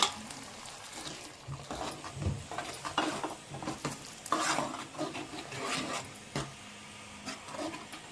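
Ground masala being stirred into softened frying tomatoes for curd channa masala, heard as repeated close scraping strokes of a spoon in the pan over a soft sizzle, with no talking.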